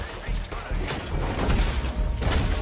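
Gunfire crackles in a Western-style Red Dead Online shootout, rapid overlapping shots and booms in a steady barrage at close range, with someone talking over the noise.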